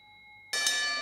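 A wrestling ring bell at a Melbourne Wrestling Show main event is struck once after a moment of near quiet, giving a loud, bright clang that keeps ringing and slowly fades.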